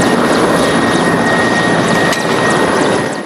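Military helicopter at a field exercise, a loud, close, steady roar of engine and rotor with a rapid chopping pulse running through it, no talk.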